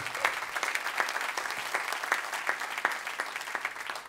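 Steady audience applause at a live concert in Sydney, dense clapping from many hands at a constant level throughout, without voices.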